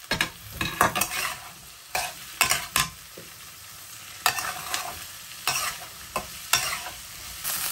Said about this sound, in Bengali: আলু আর পেঁয়াজটাকে একসাথে ভাজা করব, তার সাথে কয়েকটা রসুন দিয়ে দেবো